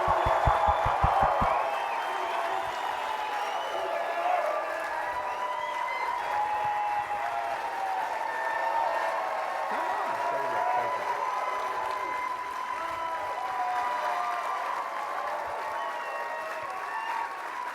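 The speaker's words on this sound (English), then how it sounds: "give this man an insane round of applause for the effort he's put in" Audience applause at a live motivational event, a dense, loud, steady wall of clapping with some cheering that carries on throughout, with a few near claps standing out at the start.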